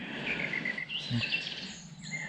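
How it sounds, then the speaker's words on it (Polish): Small birds sing outdoors in a series of faint, bright chirps and tweets repeated in short runs, with a quiet background hum. "Ptaszki pięknie śpiewają."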